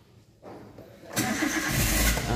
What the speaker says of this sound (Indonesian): coba kita nyalakan mesinnya